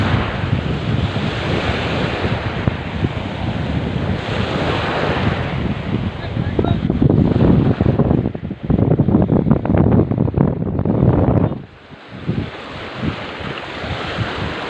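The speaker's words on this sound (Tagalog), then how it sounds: "Lakas talaga hangin" Strong wind roars and buffets the microphone continuously while shore casting on a coast in Southern Leyte, with surf-like rushing noise that surges louder midway before easing off near the end.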